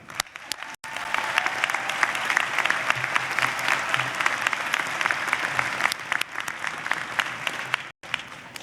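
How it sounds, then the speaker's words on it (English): Sustained applause from a large crowd at a 2016 law school commencement ceremony honouring family and friends. The dense clapping holds steady for several seconds, with a couple of brief dips. "Let us recognize them with a round of applause."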